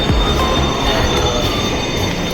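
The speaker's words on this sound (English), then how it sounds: "Here is the train." Subway train arriving at a station in China, its wheels squealing on the rails under a loud continuous rumble heard up close, with no talking.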